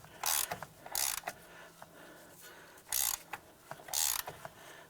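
Ratchet wrench backing out the hub bolts on a 2006-2011 Cadillac DTS during a front wheel bearing and hub replacement, heard close up in four short bursts of rapid clicking with quieter ticks between them and no talk.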